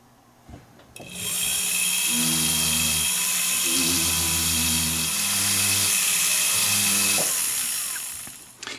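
A rotary tool at medium speed polishes the metal bezel of a cabochon gemstone setting, giving one continuous high whine of about six seconds, close and loud, with the motor pitch shifting slightly as pressure changes.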